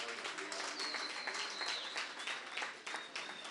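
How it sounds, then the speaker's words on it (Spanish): Audience applause fills the hall of the Cine Teatro Gran Rivadavia in Buenos Aires, dense steady clapping from a large crowd at a cinema opening, with faint whistles over the top. "fuerte el aplauso"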